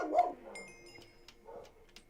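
Dogs barking: a louder bark at the start followed by fainter yips and short barks in a quiet room.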